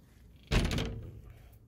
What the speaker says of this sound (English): It's got a nice door on the back with a newer screen door